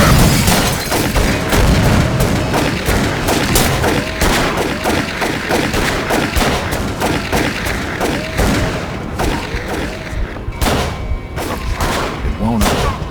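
Dense, loud gunfire from the Call of Cthulhu: Dark Corners of the Earth video game, with rapid overlapping shots and heavy booms hammering almost without pause through the whole stretch.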